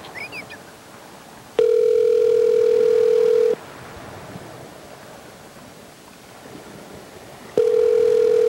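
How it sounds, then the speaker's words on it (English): Steady telephone dial tone sounds twice while a call is being placed, each time for about two seconds and loud and clear, with quiet line hiss in the gaps. "Let's call Mr. Ginsu again"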